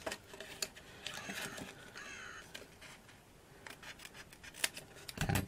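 Scissors snipping out paper mitten ornament pieces, a series of crisp close cutting snips and rustles in short bursts, with quiet stretches between and louder snips near the end.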